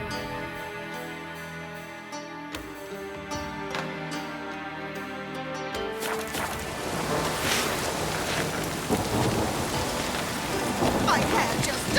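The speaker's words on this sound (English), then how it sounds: "The rain will ruin it." In The Witcher 3, steady rain pours down and thunder rumbles, rising into a loud continuous wash after a stretch of ambient music.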